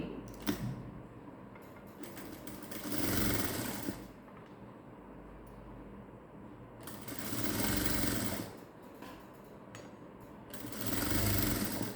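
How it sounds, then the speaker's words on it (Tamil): A sewing machine stitches folded fabric on a blouse, running in three loud bursts of steady motor whir with quieter pauses between them and no talk. "அதுக்காக இப்போ நான் இதை மடக்கி தைக்கிறேன் உங்களுக்கு பாருங்கள்"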